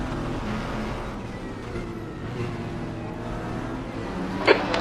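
Ferrari 296 race car engine in the RaceRoom video game, heard from the cockpit as a steady droning hum at moderate level, with a brief sharp click near the end.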